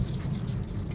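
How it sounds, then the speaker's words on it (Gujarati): Heavy rain pours down during a thunderstorm with lightning, a dense, constant rushing wash with a low rumbling undertone and no break across one second. "વરસાદના તો સોટા ચાલુ થઈ ગયા થોડા અને બહાર તો વીજળીઓ થાય જોરદાર"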